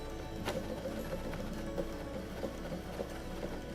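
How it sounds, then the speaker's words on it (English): Brother MFC-490CW wireless inkjet all-in-one printer running a print job, a quiet steady mechanical whir with soft repeated clicks and ticks of the carriage, low in level with no voices. "It's a nice quiet printer."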